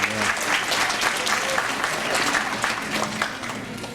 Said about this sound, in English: let's give them a big, huge round of applause